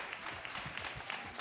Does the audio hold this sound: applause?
yes